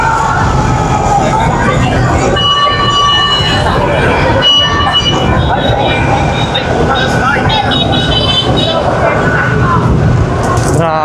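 Wailing sirens from fire trucks responding to a large fire in Aroma, Tondo, mixed with rumbling engines and crowd noise, loud and continuous, with voices heard in the background.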